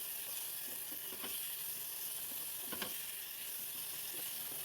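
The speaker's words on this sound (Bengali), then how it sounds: "এরপর দিয়ে দেব অল্প টমেটো কুচি আর অল্প লঙ্কা কুচি।" Chopped tomato and green chilli sizzle in a pan of hot oil with fried garlic, a steady broad hiss with occasional crackles and a few stirring clicks, close and continuous with no voices.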